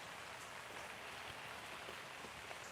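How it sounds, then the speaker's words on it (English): Steady rain falling outdoors in Florida on a wet weekend day, a soft continuous hiss of drops with no distinct pattern, fairly faint and even throughout, no voices. "2 weekends in a row, it's raining here in Florida."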